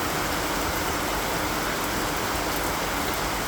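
Rain pours down on an open fairground at a mela in Amravati, a dense, steady hiss of water close by with no breaks and no voices.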